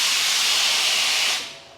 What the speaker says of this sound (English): letting a bit of steam off.